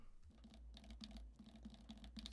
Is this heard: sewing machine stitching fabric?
no